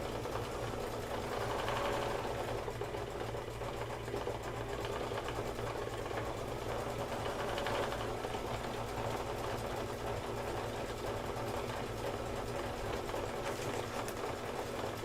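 An embroidery machine stitching a hat band buckle in gold thread, giving a steady, fast mechanical whirring and clatter that runs unbroken throughout, fairly close and alone.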